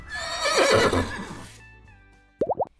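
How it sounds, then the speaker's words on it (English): A person speaks briefly, then after a pause a horse gives a short, sharp whinny in quick rising bursts. "¿Qué sonido hace un caballo? Neigh!"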